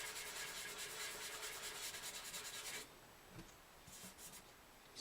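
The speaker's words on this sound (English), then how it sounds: "We're sanding dry here right now." Steady, rhythmic scratchy rubbing of sandpaper dry-sanding a Gibson J-40 acoustic guitar top by hand, close up, then a quieter stretch with a few softer strokes.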